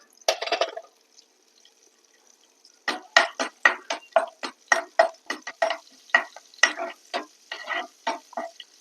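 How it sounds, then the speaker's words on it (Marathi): Chopped ginger spluttering in hot oil with green chili and hing for a kachori filling: a short burst of crackling, a pause, then a steady run of sharp, close pops and sizzles at a quick, even rhythm. "आलं चांगलं आपण तेलावर तळून घेऊया"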